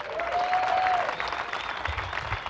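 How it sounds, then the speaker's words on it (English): A crowd applauds surfing athletes at the Abu Dhabi Longboard Classic, a steady wash of clapping from many hands, moderately loud, with a faint tone and murmur beneath. "So a big round of applause for the athletes."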